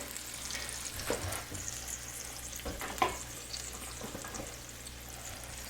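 Eggs frying in olive oil in a pan for breakfast, a steady close sizzle with scattered pops and spatters and no voices.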